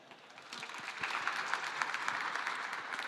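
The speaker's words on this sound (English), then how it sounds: "Are we clapping?" A live-stream panel audience applauds in a steady wash of clapping that swells after the first half second and holds at an even level to the end, with no speech over it.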